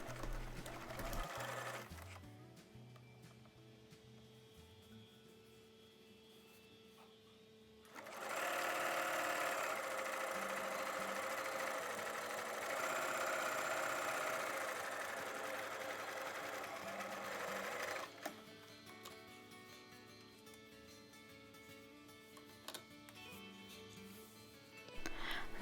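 A sewing machine stitches a 5/8 inch seam in fabric for chemo headwear, humming quietly in one continuous run of about ten seconds between stretches of near silence, with faint sounds before and after.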